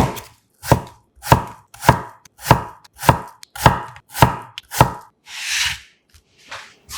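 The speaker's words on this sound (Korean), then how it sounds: "자연스런 단맛 담당 사과 4분의 1개 정도를 오이와 비슷한 사이즈로 잘라주세요" A knife chops a quarter apple on a cutting board into small pieces. About nine crisp, evenly spaced strokes land up close, followed by a softer scraping sweep and a couple of lighter taps.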